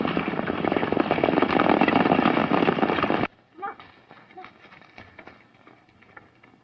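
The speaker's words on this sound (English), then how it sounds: "I'll take one of the horses and ride on ahead." Dense, loud galloping horse hoofbeats in a Western film pound steadily for a few seconds, then cut off abruptly, leaving faint scattered sounds.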